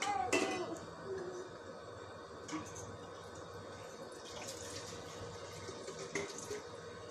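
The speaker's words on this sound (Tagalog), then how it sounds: "Lagyan mo tubig doon sa gripo." Water runs from a faucet in a steady, fairly faint stream, with small splashes and clinks over a soft background and a brief sharper burst near the start.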